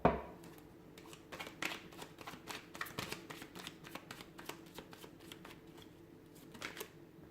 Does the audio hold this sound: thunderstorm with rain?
no